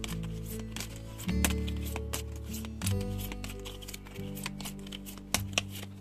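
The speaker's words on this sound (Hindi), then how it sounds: "दस बार शफल करेंगे" Tarot cards shuffled by hand for a pick-a-card reading, a soft papery riffle of flicks and rubs running steadily throughout, close and fairly quiet, with a low tonal hum underneath and no talking.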